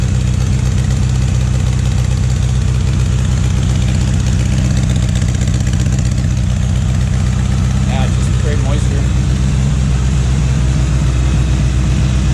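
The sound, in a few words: motorcycle engine idling after first startup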